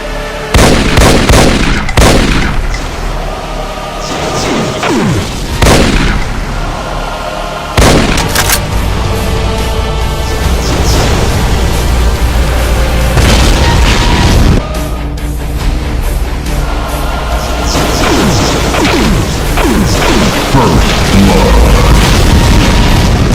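Demon Tech Devastator weapon shots in a Doom mod game, loud rapid booming blasts fired in dense bursts with short pauses, each crack followed by rumbling, crackling tails.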